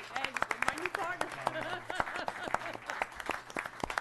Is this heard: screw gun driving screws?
no